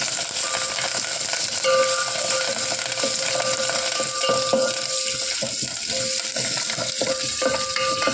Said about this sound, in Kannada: ಸ್ವಲ್ಪ ಜೀರಿಗೆ, ಕರಿಬೇವು, ಆಮೇಲೆ ಸಣ್ಣಗೆ ಕಟ್ ಮಾಡಿರುವಂಥ ಆನಿಯನ್ ಇದಿಷ್ಟು ಸ್ವಲ್ಪ ಫ್ರೈ ಮಾಡೋಣ